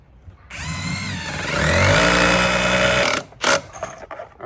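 A power driver whines loudly as screws go into the glued corner joint of a large wooden DIY dining table, one long continuous run that rises in pitch and then stops abruptly, followed by a short burst of a second drive.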